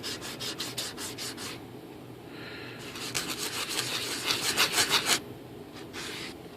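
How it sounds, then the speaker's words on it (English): Plastic rubbed with a 3M sanding block during an RC glider build, giving rapid back-and-forth scratchy strokes, close and steady, with a pause before a busier run of strokes. "just a 3M sanding block here."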